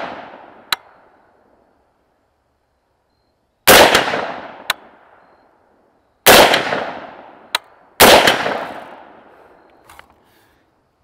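A .350 Legend AR-15 rifle with a Bear Creek Arsenal complete upper fires three loud, sharp shots a couple of seconds apart, each with a decaying echo, plus fainter separate cracks between them, heard outdoors without talk.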